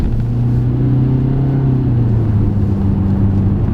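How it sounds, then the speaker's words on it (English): A 2020 Mitsubishi ASX accelerates hard on kick-down through a corner, its engine a loud, steady rumbling drone that rises slightly in pitch from inside the cabin. "So I'm going to kick down just so it gets a bit more grip"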